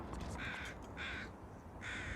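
Several crows caw overhead in the foggy open wilderness of the survival game The Long Dark, three harsh calls spaced evenly, moderately loud against a steady windy background, with no talking.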